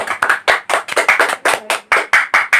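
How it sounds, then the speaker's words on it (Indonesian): A classroom group claps in a steady, fairly loud rhythm of about a dozen sharp, separate claps, with no talking over it. "Beri tepuk tangan."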